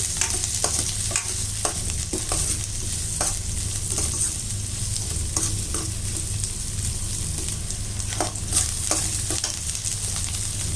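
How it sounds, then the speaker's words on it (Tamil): Seven or eight garlic cloves sautéing with onion in a pan, a steady close sizzle broken by frequent clicking and scraping stirs throughout. "இதில் பூண்டு ஒரு 7-8 பல்லு பூண்டு போட்டுக்கலாம். இது நல்லா வதங்கட்டும்."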